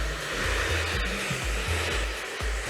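A hair dryer on medium heat blows in a steady, loud, continuous rush while hair is being set without a diffuser, with no voices over the airflow.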